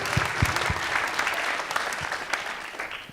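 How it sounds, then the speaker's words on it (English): Audience applause at a summit panel on collaborative governance, a steady wash of clapping from a crowd indoors, moderately loud and continuous throughout with no talking. "oh, you can go ahead and clap"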